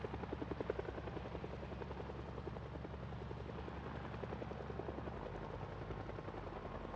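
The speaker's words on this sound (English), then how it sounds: "the helicopter by default is an event that happens that you can hear but you can't see" A helicopter flies over during a Project Zomboid in-game event, a steady rotor drone with a fast chopping pulse that holds throughout with no voices.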